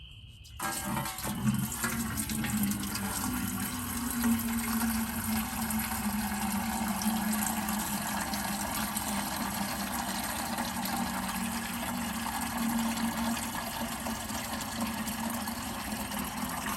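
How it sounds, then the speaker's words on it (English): Water from a rainwater catchment system runs continuously for about seventeen seconds, a steady, fairly loud rushing flow with a low pump-like drone beneath it and no speech. "So I'm getting some water from my water catchment system"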